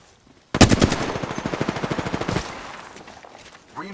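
Machine-gun fire in the video game Apex Legends, a single rapid burst of around fifteen close, loud shots lasting about two seconds, then fading.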